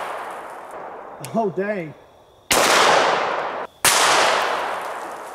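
A 9mm 147-grain +P+ full metal jacket round is fired at a 380 lb Atlas stone outdoors, two sharp, loud reports with a long ringing decay, after a brief spoken exclamation.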